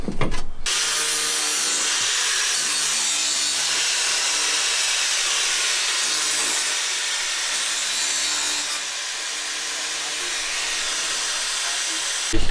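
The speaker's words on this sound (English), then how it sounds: "We're drilling the pillar bolts" A loud, continuous drilling noise grinds on steadily for several seconds while holes are drilled for pillar bolts on a 2017 Toyota Tacoma snorkel install, harsh and hissy, with a brief break near the start.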